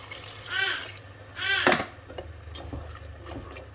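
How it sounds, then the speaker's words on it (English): Water poured into a pot of textured vegetable protein for a vegan chili, heard as two short gurgling pours about a second apart, then faint clinks and stirring. "So I'm going to add some water."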